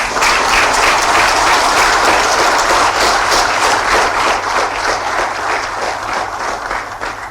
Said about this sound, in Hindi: जोरदार ताली होना चाहिए था।